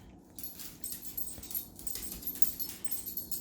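Puppies whimper and whine softly nearby in short, high-pitched bursts, fairly quiet and alone without talk.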